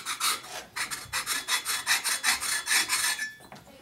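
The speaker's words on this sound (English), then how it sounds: "when you're filing across the edges here, you can see how you only catch in certain places" Hand file rasping across the high spots of a 1948 Harley-Davidson panhead 74ci engine case, a steady series of about a dozen close, rhythmic strokes that stop near the end.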